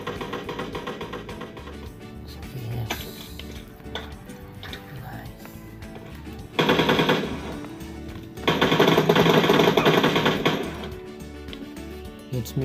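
Automatic rifle fire in a shooter video game comes in bursts of rapid rattling shots, with loud sustained volleys in the second half separated by quieter gaps.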